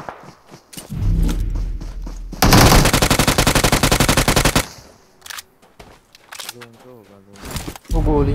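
Automatic gunfire in PUBG on the Livik map: a loud, dense rapid-fire burst lasting about two seconds, framed by scattered shots, footsteps and players talking before and after.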